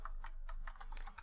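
Someone types on a computer keyboard, likely an Epomaker board with worn keys, producing a quick run of soft, close clicks and taps at an uneven pace with no talking.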